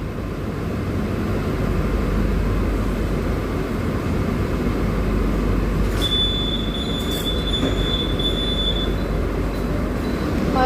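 A MEDHA AC local train on the Borivali–Virar line rolls on with a steady, loud carriage rumble as it comes into Nala Sopara, and a sharp, high wheel squeal rises from about the middle of the stretch.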